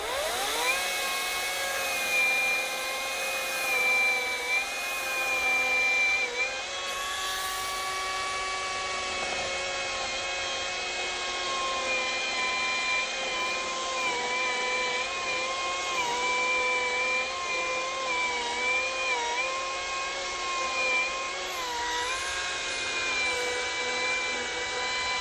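Ryobi battery chainsaw cutting while thinning trees, a steady high whine with strong harmonics that holds for the full stretch, dipping and rising slightly as the chain loads in the wood, close and loud with no talk.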